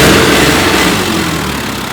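A John Deere turbo tractor engine runs at full throttle in D2 gear, a loud, steady, close roar that eases slightly toward the end.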